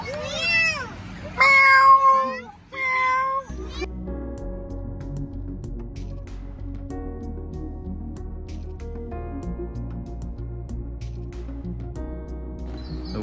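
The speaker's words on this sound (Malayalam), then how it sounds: "പൂച്ചക്കുട്ടി കേട്ടോ." A kitten meows several times in quick, rising cries during the first few seconds, loud and close, in the evening grounds of the Airavatesvara Temple at Dharasuram near Kumbakonam; steady music then takes over.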